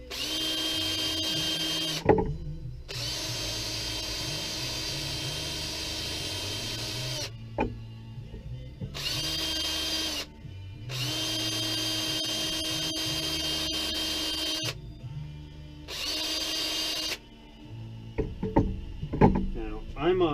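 A power tool whines steadily while polishing aluminum motorcycle rocker boxes, running in long loud bursts broken by short pauses. Near the end it gives way to clattering handling noises.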